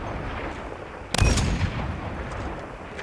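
A fast-firing gun in a ranked shooter video game lets off a short loud burst of shots midway, booming and close, over a low steady background hum.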